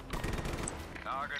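Dense gunfire from the video game Just Cause 3, a fast continuous barrage heard close up, with shouting voices mixed in.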